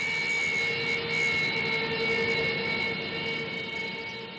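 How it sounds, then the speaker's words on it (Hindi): A Sukhoi-30 MKI nuclear-capable fighter jet in flight gives a continuous loud jet-engine roar with steady high whining tones, holding level for several seconds before easing slightly, with no talking. "सुखोई 30 एम परमाणु क्षमता वाला विमान है जो दुश्मनों की धरती पर दूर तक मार कर सकता है"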